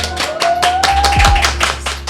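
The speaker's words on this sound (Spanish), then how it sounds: "Un aplauso de nuevo" Applause from a small studio audience welcoming two guests, Alberto and Fanny, on a podcast set: a few seconds of steady, close clapping with a faint tone running beneath it.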